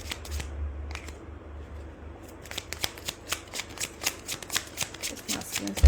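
Tarot deck being shuffled by hand, a run of crisp riffling card flicks in a quick steady rhythm that grows louder over the last few seconds, close and alone with no talk.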